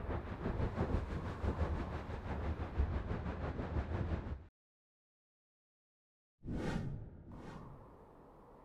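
Train departing sound effect: a steady rhythmic rumbling roll for about four seconds, then sudden silence, then two quick airy whooshes that fade out. No one speaks.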